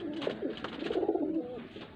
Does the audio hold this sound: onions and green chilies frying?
no